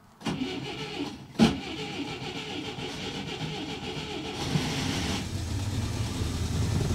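A Moskvich car starts on the first try, fed from a bottle of petrol with a battery hooked up: a short crank and a sharp catch, then a steady rough idle that grows slightly louder.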